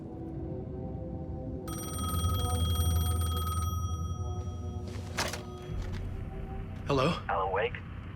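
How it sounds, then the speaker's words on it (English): A payphone ringing in the video game Alan Wake 2, giving a steady electronic ring for a couple of seconds amid ambient game sound, followed by a few brief thumps and tonal chirps. "The payphone was ringing."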